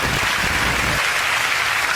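Audience applause on a talk show, a broad steady wash of clapping heard close and fairly loud throughout, thinning slightly in the low end after the first second.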